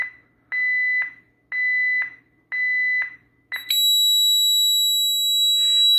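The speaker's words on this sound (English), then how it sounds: "the system will go into a burglar alarm" A home security system's burglar alarm sounds four loud, steady electronic beeps of about half a second each, then breaks into a continuous piercing high tone that holds to the end, with no talking.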